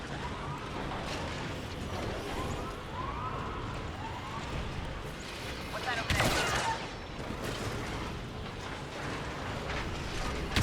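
Blaster gunfire in the Star Wars Battlefront II video game, a dense battle din of zapping shots and warbling tones with a sharp burst near the middle, under occasional voices.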